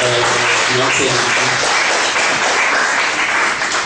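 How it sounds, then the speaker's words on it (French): Audience applause at a school integration day for students of the Keur-Moussa commune: a dense, steady wash of many hands clapping that fills the whole stretch, with a voice briefly audible at the start. "il faut applaudir encore une fois"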